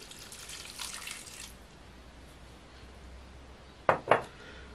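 About 180 grams of water pours into a mixture with vinegar and cheese, a brief soft splashing hiss, then a pause and two sharp clinks of a utensil or bowl, with no voices.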